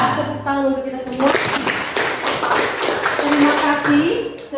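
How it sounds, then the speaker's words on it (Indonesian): A classroom of students claps together at the end of a religious education lesson, a dense burst of hand claps running through the clip under an adult voice that speaks over it at the start and end. "Tepuk tangan untuk kita semua"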